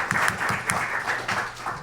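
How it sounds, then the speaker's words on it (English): Audience applause at a residency Match Day gathering, honouring a faculty member named Ina Wells; a short, steady patter of many hands clapping at moderate volume, with faint low murmurs underneath. "So round of applause for Ina Wells."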